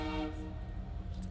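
A train rushes past nearby, a loud rumbling low roar with a steady tonal horn-like hum across the whole stretch, continuous and close.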